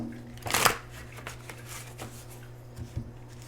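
Oracle cards shuffled and drawn by hand, one sharp riffling burst near the start followed by softer card slides and taps over a faint steady hum.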